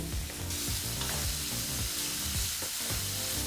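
Chopped onions frying in oil in a pan on low to medium flame for upma, a dense, continuous close sizzle and crackle with occasional stirring.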